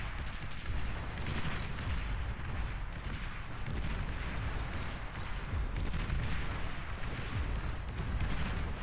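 Artillery volleys in the strategy game Beyond All Reason, a dense continuous barrage of overlapping booms and bursts with no pause, rumbling and loud throughout.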